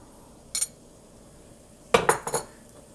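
A spoon clinks against a cooking pot while octopus vindaille is stirred, one short scrape followed after a pause by a quick cluster of three metallic knocks, close and fairly quiet.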